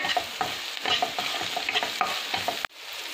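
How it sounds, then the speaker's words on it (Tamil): Tomatoes sautéing with salt in a pan, a close sizzle broken by repeated scraping stirs of a spoon against the pan, before an abrupt drop to a quieter hiss. "தக்காளி நல்லா வதங்கிடுச்சு"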